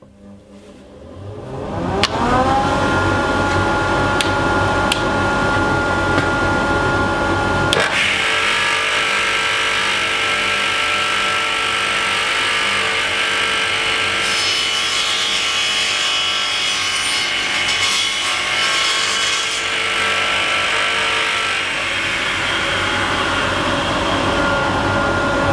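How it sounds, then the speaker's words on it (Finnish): In a woodworking shop, a dust extractor behind the wall is switched on by remote and spins up into a loud, steady roar. A harsher woody cutting or sawing noise soon joins it and continues over the drone. "Sitten pannaan tällä kaukosäätimellä tuolla seinän takana oleva puruimuri päälle."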